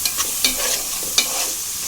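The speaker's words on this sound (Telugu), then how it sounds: "ఇదిగోండి అరటికాయ ముక్కలు ఇలా వేసేసుకోవాలి. వేసేసుకునండి ఇంకోసారి ఇలా కలుపుకోండి." Raw banana pieces frying in a pan as a spoon stirs them, a steady close sizzle broken by a few sharp scraping strokes of the stirring.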